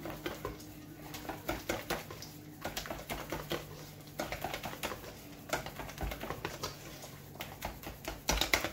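Rapid, irregular clicking taps of a utensil against a bowl as chechebsa batter is beaten, continuing close by with short pauses.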